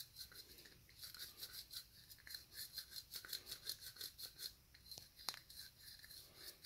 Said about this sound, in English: And then you just get your deburring tool